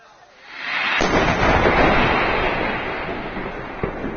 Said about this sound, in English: A massive explosion suddenly occurred on the banks of the Ganges River in Nahati